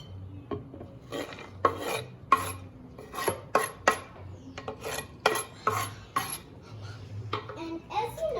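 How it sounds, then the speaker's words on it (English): Cubes of cacao chocolate tumble into a bowl in a run of sharp clattering, rattling hits, each burst brief and close, with quiet gaps between them, while brownie cake batter is being made with almond flour. "So I'm going to pour the chocolate in."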